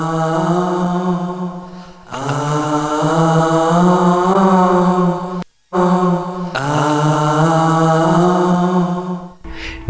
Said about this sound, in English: I've got a loop of myself singing a vocal melody recorded again and again, laid on top of each other.